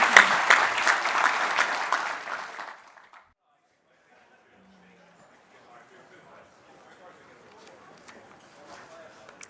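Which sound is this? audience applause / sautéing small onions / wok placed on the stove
audience applause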